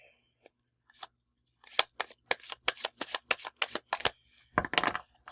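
Stiff tarot cards being shuffled, a dense run of sharp riffling snaps and flicks building up, close and fairly loud, with no talking.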